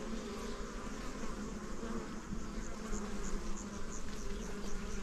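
Honeybees swarm around a hive while colonies are being combined, producing a dense, continuous buzzing drone that is close and steady.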